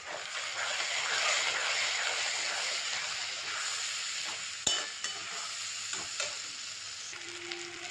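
Spice masala with chilli paste, salt and turmeric sautéing in a pan for katla fish kaliya, a steady close sizzle and fry under repeated scraping stirs, with a few sharper spoon knocks near the end.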